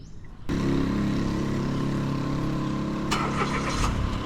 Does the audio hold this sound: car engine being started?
yes